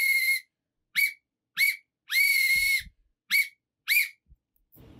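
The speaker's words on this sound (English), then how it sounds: "The long and short whistle sound." A whistle is blown in a clear sequence of separate sharp blasts, one long tone among several short ones, loud and close, with silent gaps between them and a faint thump at the end.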